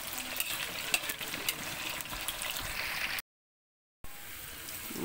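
Potatoes and carrots cook in a pan with a steady, broadband frying sizzle that runs continuously, breaks off in a brief silent gap, then resumes just as strongly.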